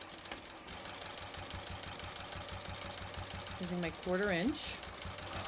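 A sewing machine stitching a road trip wallet runs with a steady, fast mechanical chatter throughout, while a person speaks briefly over it near the end.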